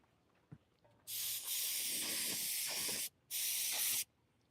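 Two bursts of paint spray hissing from an airbrush, a long steady hiss followed by a brief pause and a shorter burst, close and loud.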